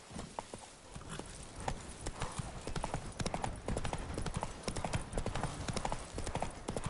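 Horse hooves clip-clop loudly in The Witcher 3, a quick uneven patter of strikes that builds from a walk into a busier gallop, with little talk over it.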